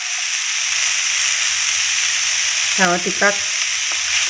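Homegrown green beans fry in oil in a pan, a steady close hiss of sizzling with a few stirring scrapes, while a voice speaks briefly over it near the end.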